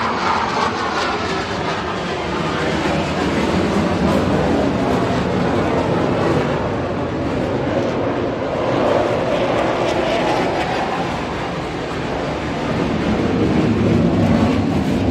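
A loud, sustained jet engine roar swells and drifts as an airplane powers up to full thrust, continuous for the whole stretch with no voices.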